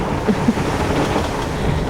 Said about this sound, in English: listening to all the sounds of the boat as it slams through the waves